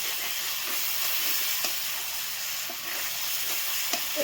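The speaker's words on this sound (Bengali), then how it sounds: "আমি মাংসটা ভালো করে ভাজিয়ে নেব।" Meat fries in spiced masala in an electric wok, giving a steady, loud sizzling hiss with occasional small pops and crackles, alone and without talk.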